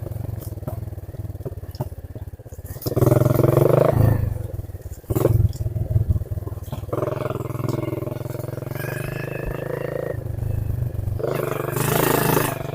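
A motorcycle engine runs steadily with a low rumble, swelling into several louder revving bursts, close by and mostly alone.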